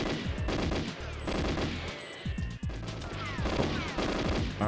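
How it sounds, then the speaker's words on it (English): Rapid bursts of automatic gunfire in the 1997 video game GoldenEye 007, loud and dense, sounding over a continuous mechanical game background with no one speaking. "There's gunfire, and eventually I hear, ugh, and then there's no gunfire"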